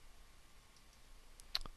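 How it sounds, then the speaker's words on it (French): A computer mouse's left button clicked during 3D modeling work, giving a couple of quick, faint, close clicks near the end after quiet room tone. "pour valider, on clique sur le bouton de gauche"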